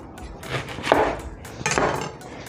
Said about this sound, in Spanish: Vamos a picar un poco de cebolla